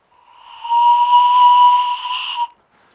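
A homemade elderberry whistle blown with the end closed by a finger gives one breathy, hissy steady tone of about two seconds that swells in, holds and cuts off, close and alone.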